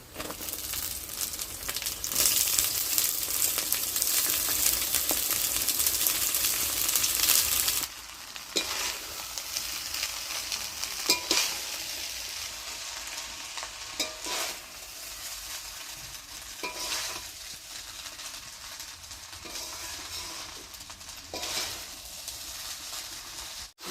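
Cooked rice is stirred and tossed in a hot pan for masala paneer and vegetable fried rice, a steady scraping sizzle with occasional sharper scrapes and clatters, no talking.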